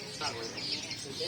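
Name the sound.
ashy prinia (perenjak kelawu) bird chirping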